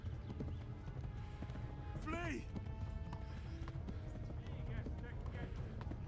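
Hoofbeats of a horse galloping in Kingdom Come: Deliverance drum steadily under game music and ambience, with a whinny rising midway; someone talks over parts of it.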